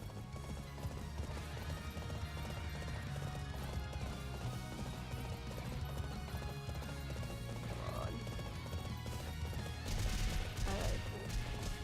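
Rapid galloping horse hoofbeats in Fire Emblem Warriors: Three Hopes pound steadily beneath a dense, loud wash of battle noise and music, with occasional crashes and a brief whinny.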